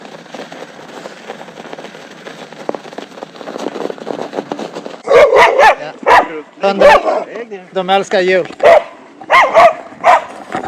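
Dogs bark and yip in loud, close bursts over a steady rolling background hiss from wheels on pavement, with a voice speaking among the barks.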